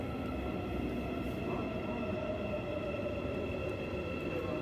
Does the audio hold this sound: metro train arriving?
yes